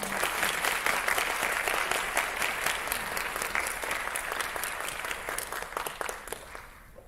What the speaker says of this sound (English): You can clap for all of them while they're coming.